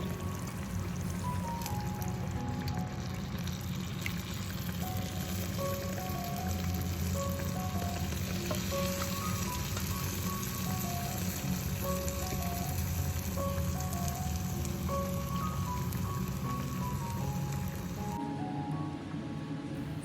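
Dal poured little by little into cooked masala for a Kerala parippu manga curry, sizzling steadily in the pan for the whole stretch with a continuous close frying hiss and faint scraping as it is stirred.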